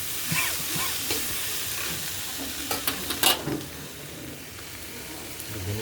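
Momo masala being mixed into a vegetable filling in a pan for veg momos, with a hissing sizzle under clustered scraping and clinking strokes of a utensil, close and moderately loud.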